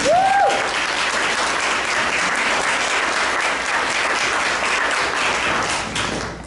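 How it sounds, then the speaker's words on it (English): Audience applause fills a campaign launch event for a Bellevue city council member's re-election, a steady, dense wash of many hands clapping close by that holds evenly and tapers off near the end. "let's give her a round of applause."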